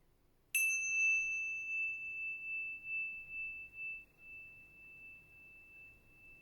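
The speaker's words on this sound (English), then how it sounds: "I'll ring a little bell just to be clear that the practice is finished." A small meditation bell is struck once, a clear near tone that rings out and fades slowly over several seconds in a quiet room.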